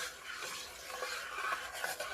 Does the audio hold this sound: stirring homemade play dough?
yes